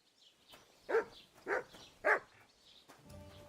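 A dog gives three evenly spaced barks, moderately close, with quiet background noise between them and a faint rustle at the end.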